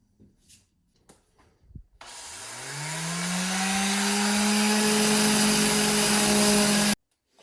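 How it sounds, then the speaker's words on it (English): A power sander whirs up to speed and runs steadily with a droning, rising hum, then cuts off abruptly, sanding a wooden shovel handle held in a wood vise with 60-grit sandpaper. "we're going to start sanding"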